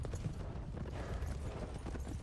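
Horse hooves clip-clop in a steady run of soft, muffled hoof beats under a general background hum, with no clear talking.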